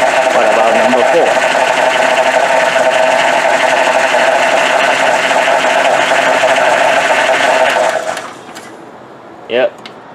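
A Nissan Sentra engine misfires with bad fuel injectors, running on only two cylinders, giving a loud, steady rough drone that cuts off abruptly near the end, followed by a brief voice.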